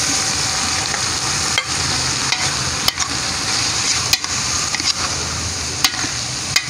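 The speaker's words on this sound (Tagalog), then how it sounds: "hahayaan po muna natin siyang maprito-prito ha, ng bahagya bago natin lagyan ng tubig" Meat sizzles steadily in a pan while cooking papaitan, with a bright continuous fry and occasional sharp clicks and scrapes as it is stirred.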